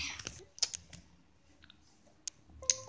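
Sparse computer keyboard clicks while playing Roblox, a few separate sharp taps scattered across a quiet stretch, close and fairly faint.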